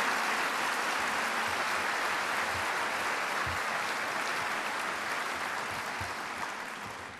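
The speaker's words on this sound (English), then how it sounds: "let's hear a round of applause for all of our toasters and Ken Carlson" Sustained applause from an audience at an evening honoring event for service, a dense wash of clapping that holds steady and slowly fades toward the end.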